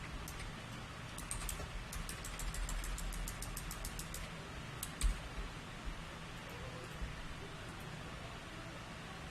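Light, faint computer keyboard typing as a name is entered, a quick run of small clicks clustered near the start over low room hum, then quiet.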